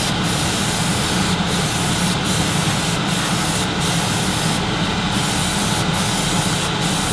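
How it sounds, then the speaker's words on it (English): Aerosol spray paint misted in short light bursts onto a 1/48 Academy SU-27UB Flanker model jet kit, a steady close hiss broken by brief pauses, with no talking. "we're just going to mist this on. Nice little light coat."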